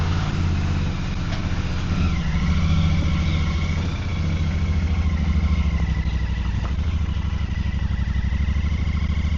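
A Royal Enfield Super Meteor 650 motorcycle ridden up and down a bumpy lane, its engine a steady, close, low throbbing drone with slight rises and dips in revs, heard with no talking.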